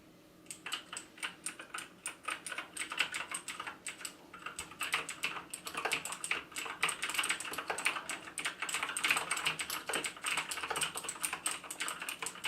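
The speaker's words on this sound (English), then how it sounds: "So there you can hear the clicks on the keyboard." Rapid, crisp clicking of keys being typed on a Razer BlackWidow Ultimate 2014 clicky mechanical keyboard, steady and close, with no voices.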